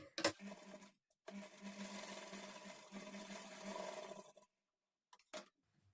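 A sewing machine runs a normal-length stitch along a blouse lining, a close steady mechanical whir lasting a few seconds, with short separate bursts before and after.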